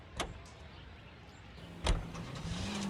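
A car in L.A. Noire: a door thunks shut, then after a pause a second heavier thump is followed by the engine starting and settling into a low, steady idle.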